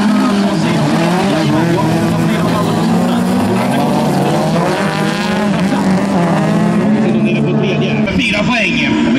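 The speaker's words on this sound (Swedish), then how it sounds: "Fyra bilar bredd in mot första kullan, det är ingen utav dem vill ge sig." Race cars at NGK Master 2023, four abreast into the first corner, engines roaring loud and continuous with shifting revs and tire squeal, a commentator talking excitedly over the noise.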